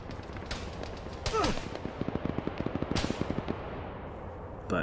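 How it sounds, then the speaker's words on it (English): Incoming gunfire in the Arma 3 game: a rapid string of distant shots crackles in a steady burst, with a couple of louder single cracks, over a constant background hum. "Zigzagging a little bit to avoid incoming fire."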